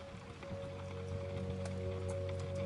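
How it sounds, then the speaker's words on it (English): Rain falls as a soft, steady patter of drops, faint and continuous, with a low hum underneath and no voices. "The rhythm of the drops"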